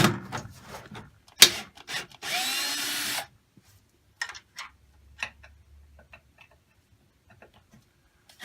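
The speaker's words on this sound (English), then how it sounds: "I'm going to use this drill gun just to kind of speed it up a little bit" A cordless drill gun backs screws out of an elliptical incline board, with a sharp clack and a whirring burst of about a second, then faint scattered clicks and handling noises.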